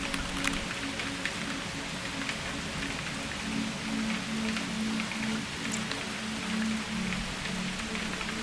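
Steady rain falls on a rainy summer day, a dense, even patter of drops on surfaces close by that continues without a break, with a low hum underneath and no voices.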